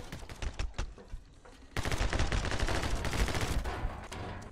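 Gunfire in the My Friend Pedro video game: scattered single shots, then a dense rapid stream of automatic bursts, loud and close, with no talk.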